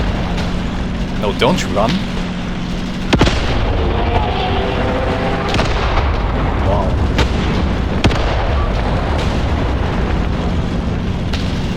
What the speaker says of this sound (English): Come on, hit it with the anti-tank rifles.